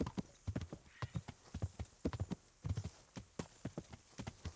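Horse hooves clip-clopping in the medieval game Kingdom Come: Deliverance, a steady walking rhythm of close, distinct hoof strikes with a brief whinny, and no talk over it.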